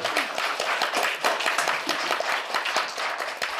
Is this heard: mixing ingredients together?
no